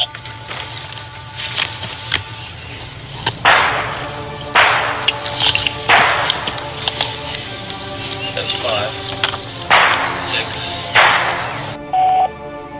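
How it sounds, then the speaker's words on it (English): Several sharp, loud gunshots from a suspect firing at nearby homes in Norman, Oklahoma go off at irregular intervals against a steady background hum, with some faint voices in between. "Oh, that's another gunshot."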